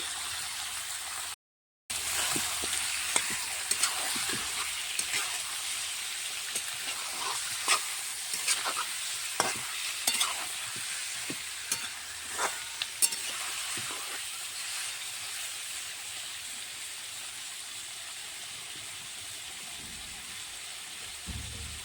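Chicken pieces frying in a pan over a wood fire, a constant bright sizzle with frequent sharp pops and spatters, close and sustained throughout after a brief gap near the start.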